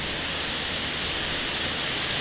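Heavy rain pours steadily during a roadside stop on a rainy journey, a dense, loud, unbroken hiss of drops on surfaces with no pauses.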